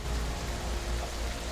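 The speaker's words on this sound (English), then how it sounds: "should be rain, so yeah." Steady rain hiss with a low rumble, a brief continuous wash of falling drops at moderate level, with no voices.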